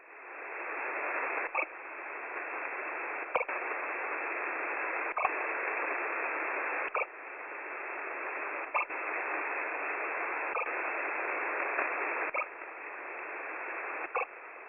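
Changed shortwave marker signal on 6230 kHz, a continuous band-limited noise broken by short regular blips or clicks about every 1.7 seconds, loud and steady with no voices.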